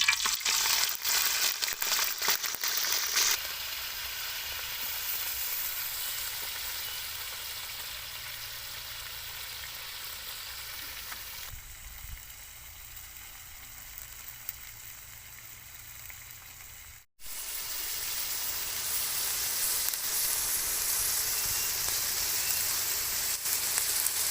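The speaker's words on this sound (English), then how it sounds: "So after our oil hot, we add our Tok Mol on oil." Tok Mol fries in hot oil with a dense, continuous, rain-like sizzle that holds steady and close for the whole stretch, with only a momentary break.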